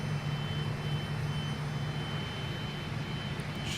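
Fokker 28 jet engines in a flight simulator game, heard as a steady, loud broadband roar with a low hum during the climb, unbroken and with no talk throughout.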